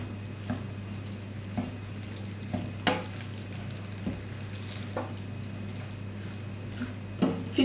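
A spoon stirs pesto through cooked vegetable pasta, giving soft, irregular squelching and scraping noises over a steady background hum with no talking.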